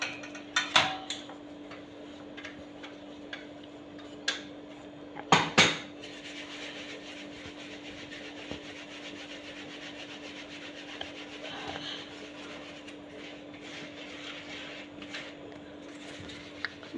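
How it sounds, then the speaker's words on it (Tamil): Ground rice flour is sifted through a sieve in a home kitchen, giving soft steady rubbing and scraping, with a few sharper taps against the rim over a low hum. "இதை நம்ம சல்லாடையில் சலிச்சுக்கலாம்"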